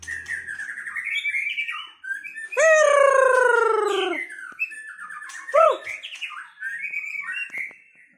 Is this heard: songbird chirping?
yes